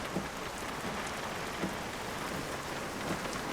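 Constant rainfall hisses evenly throughout, a soft steady patter with occasional faint drops standing out.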